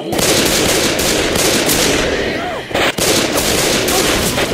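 Dense, continuous automatic gunfire from the zombie shooter game Left 4 Dead 2, loud and sustained throughout with only a brief dip near the end; a player's voice briefly cuts through the shooting.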